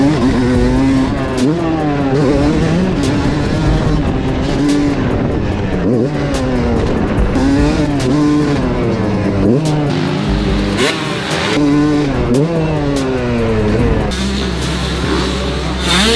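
A custom-built two-stroke dirt bike rides past and around, its engine loud and close, revving up and down in repeated rising and falling sweeps with shifting pitch throughout.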